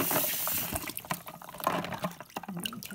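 Snails being rinsed in a bowl of warm water for a Lao snail stew, with close, irregular sloshing, splashing and dripping as they are stirred by hand, and no voices.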